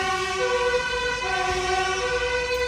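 Fire engine siren passing on a street, a loud steady wailing tone with strong harmonics that holds for the whole stretch, heard alone with no talking.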